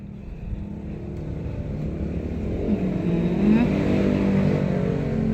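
Motorcycles pass nearby, their engine drone swelling louder toward the middle and staying steady under a continuous low rumble of traffic.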